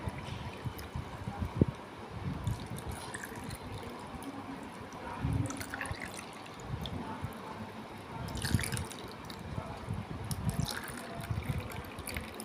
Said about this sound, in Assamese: এতিয়া মই এইদৰে আইচক্ৰীম বনোৱা চেপত মই এতিয়া এই চৰবতখিনি এতিয়া ইয়াত মই দি ল'লোঁ।